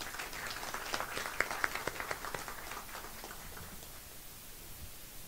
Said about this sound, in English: a big round of applause to both of them